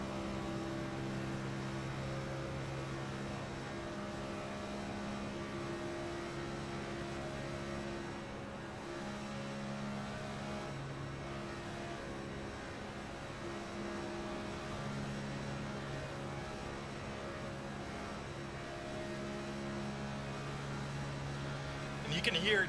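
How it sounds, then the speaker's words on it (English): A Next Gen Cup race car in a sim racing game at Daytona, engine droning steadily with harmonic tones that dip and swell as the throttle is worked, running continuously under commentary. "listen to him working this throttle"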